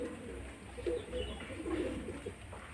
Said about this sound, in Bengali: এটা হচ্ছে দোবাজ পায়রা